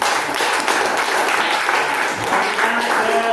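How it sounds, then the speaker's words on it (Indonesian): A classroom of students applauds during an Islamic religious studies lesson, giving a short, dense burst of hand clapping that stays fairly even from start to finish. "Nah, tepuk tangan ya."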